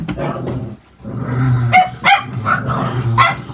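Dogs bark and yip in quick, loud bursts close by, mixed with growling as they scuffle.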